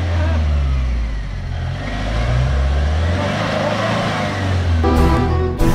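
A Mahindra Thar drives off-road along a wet, muddy track, its engine rising and falling in close, loud revs, with a brief burst of other noise near the end.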